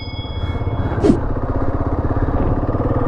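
Kawasaki KLR 650 dual-sport motorcycle riding toward the Flinders Ranges in Australia, a close, steady single-cylinder engine drone with a constant rhythmic pulse throughout and a brief faint voice.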